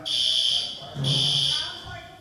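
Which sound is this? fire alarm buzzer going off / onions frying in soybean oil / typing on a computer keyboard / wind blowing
fire alarm buzzer going off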